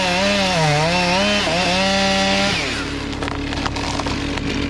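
A big Stihl chainsaw clearing land for a new house screams at high revs, its pitch wavering and then dropping to a rougher, buzzing idle with clattering, an odd sound from the saw, close and loud without speech.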